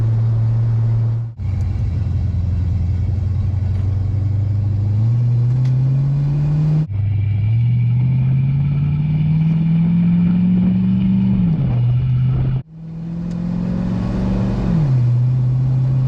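Old Ford F1 pickup truck, off the road for fifty years, driving with a close, steady engine rumble that climbs in pitch through each gear and drops at three distinct shift points, no talking.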